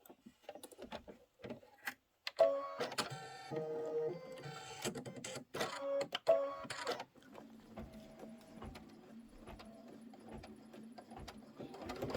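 An embroidery machine stitches out an umbrella design, its needle tapping in rapid mechanical bursts with brief pauses, close and fairly quiet.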